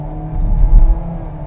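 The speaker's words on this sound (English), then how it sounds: "It's a very fast shifting CVT. For example, put my foot down here." A 2021 Kia Seltos EX AWD with a CVT accelerates hard, its engine and road noise swelling into a low rumbling surge at close range before settling back.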